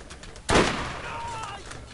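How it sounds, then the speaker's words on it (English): Enemy gunfire in Borderlands: a single sharp shot or blast that rings out and decays, set against faint game ambience. "they just need to stop for a second and stop shooting me"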